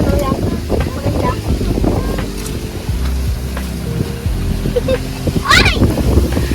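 Wind buffets the microphone with low rumbling gusts, mixed with a steady engine-like drone and brief bursts of voices nearby.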